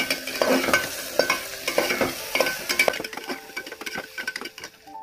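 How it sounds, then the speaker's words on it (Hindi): Chopped onions fry in hot oil with spluttered cumin in a pan for aloo parwal sabji, a steady close sizzle broken by repeated scraping stir strokes, louder for the first three seconds and then quieter and crackling. "प्याज भूनेंगे।"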